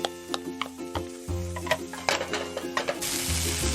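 Garlic and ginger sautéing in a little oil in a pan, a steady light sizzle with scattered clicks and taps of utensils, then a brighter, louder hiss near the end, close and alone without talk.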